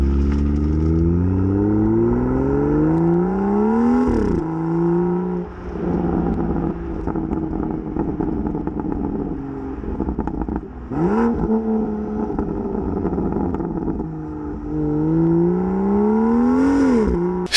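A BMW M2 engine burbles steadily at idle, then rises in three sharp revs that climb and fall back, loud and close with a constant rumbling undertone and no voices.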